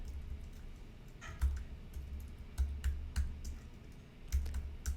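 Someone types a Unix sort command on a computer keyboard. Close, quiet bursts of key clicks come in short uneven clusters over a low background hum, with no talking.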